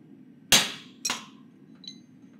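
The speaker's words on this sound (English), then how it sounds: "Matt's marking where we'll form the shoulders of the tenons, and he's doing that with a chisel so they can be easily located." Two sharp metal strikes about half a second apart as a chisel is hammered to mark tenon shoulders on metal in a blacksmith's workshop, followed by a faint high ring, alone over low background hum.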